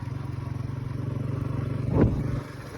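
A motorcycle fitted with bicycle handlebars runs at a steady, close engine drone, with a brief louder rise and rattle near the end.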